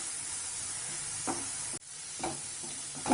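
Tomatoes sautéing with onions and a little salt in a pan for vada curry, giving a continuous close sizzle with a few soft stirring scrapes and a brief dip midway.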